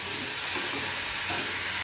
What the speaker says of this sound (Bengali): কাঁচা লঙ্কা টমেটো আর কাঁচা পেঁয়াজ দিলাম, এটাকে একটু ভাজা ভাজা করবো